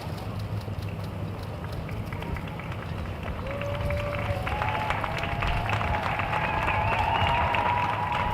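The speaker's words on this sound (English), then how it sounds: "We can hear the applause." Steady crowd applause and cheering fills the air outdoors at the Capitol as Joe Biden and Kamala Harris arrive for the presidential inauguration, continuous and moderately loud, with faint whistle-like tones rising over the wash of clapping.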